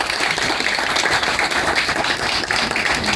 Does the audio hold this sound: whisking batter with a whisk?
no